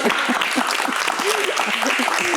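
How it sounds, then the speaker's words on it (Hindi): A studio audience on a talk show applauds steadily with a continuous wash of clapping, loud and close. Voices are heard faintly over it. "सो तालियां आपके लिए"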